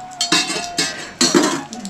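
Dishes, pots and pans being washed by hand in a rural hillside home during rain, with three loud bursts of clattering and clinking metal utensils close by, separated by short pauses.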